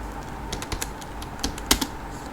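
Scattered taps on a computer keyboard while text is written into a free AI tool, a few sharp keystrokes in small bursts over a low background hum, no speech.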